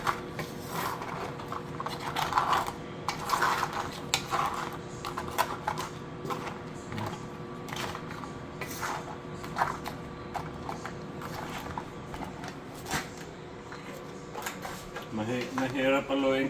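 Large crabs are stirred in a pot of coconut milk with squash, giving irregular clacking and knocking of shells against the pot, with light sloshing and a louder scrape near the end, while someone talks over it.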